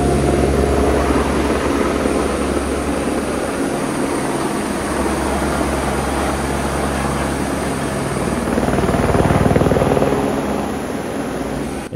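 Helicopter ferrying injured people near a volcano on Réunion Island, a loud continuous rotor and engine roar close by, steady throughout with a slight swell near the end and no talk.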